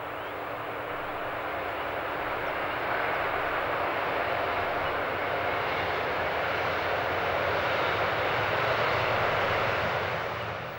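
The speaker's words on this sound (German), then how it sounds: "Eine 182 der DB ist mit einem Autozug auf dem Weg." A DB class 182 electric locomotive hauls a car-carrier train past, making a steady, loud, broadband rumble and rush that holds level for several seconds with no talking.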